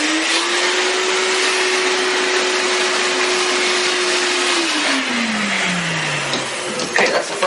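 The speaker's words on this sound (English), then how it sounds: "now I'm going to get the rest with the vacuum again" A vacuum cleaner runs close by with a steady high whine while cleaning around a toilet base, then its pitch slowly drops near the end as rustling handling noises come through.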